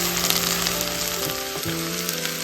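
Vegetables, leeks among them, fry and are stirred continuously in a pan, giving a dense, close, steady sizzle with scraping stir movements and no talking.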